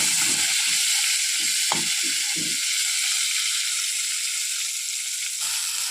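Pieces of pointed gourd fry in hot oil with a steady, close sizzle throughout, punctuated by a few soft clinks and scraping stirs early on; no one speaks.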